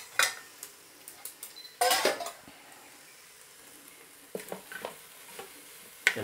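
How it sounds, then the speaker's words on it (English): Blanched pork leg sizzles faintly in a hot pan while a utensil scrapes and clatters against the metal in a few sharp bursts of stirring, with quieter frying in between. "We can actually put in the blanched pork leg."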